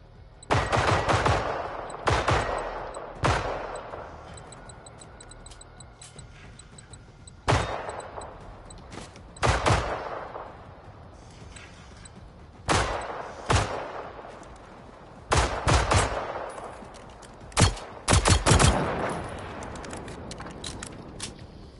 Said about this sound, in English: Why does your gun sound like a laser?